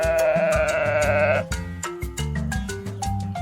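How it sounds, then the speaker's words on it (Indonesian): A sheep bleats in a long wavering cry lasting over a second, set against loud music with steady beat and melody that continues after the bleat ends. "Semua domba mempunyai kecenderungan untuk berkumpul."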